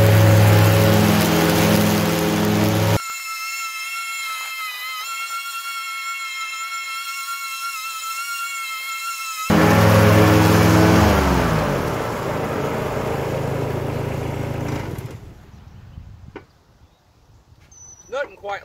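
A diesel tractor engine cranks and fires, then settles into a loud, steady mid-pitched idle with a rough rumble for several seconds before the revs drop and it fades, with outdoor ambience and brief clatter afterward.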